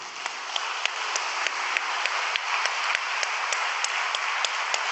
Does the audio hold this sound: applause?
yes